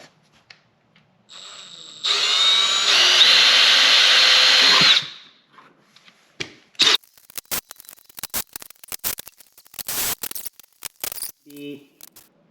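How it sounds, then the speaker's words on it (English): A power drill bores into the body of a Jeep JL Wrangler during a tire carrier installation, a loud steady whine lasting about three seconds, followed by scattered clicks, rustling and handling noises. "So let's go ahead and drill."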